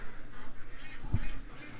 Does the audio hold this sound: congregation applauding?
no